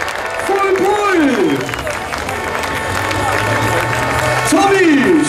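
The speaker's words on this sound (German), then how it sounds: "Der Tommy von D-Max hört heute einen Applaus in Edelweg" Crowd applause and cheering at a farm tractor-pulling contest in Edewecht after a full pull, a broad wash of clapping under loud announcer commentary and a droning engine.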